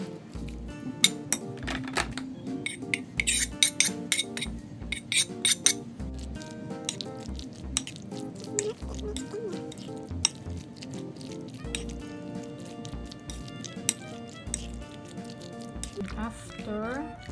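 A spoon mixes chicken macaroni salad with carrots and celery in a bowl, giving repeated soft squishes and clinks against the dish. A person talks throughout.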